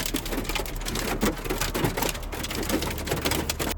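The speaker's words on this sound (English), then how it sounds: "I was sleeping beautifully until it started hailing." Hail falling hard in a storm, forming a loud, dense, continuous rattle of impacts that stays steady throughout with no speech.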